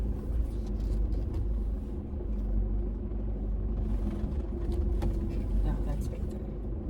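Car creeping slowly over a rocky track near Klipgat Cave in Walker Bay Nature Reserve, a steady low engine rumble and crunching of tyres on stone, heard from inside the cabin under people talking.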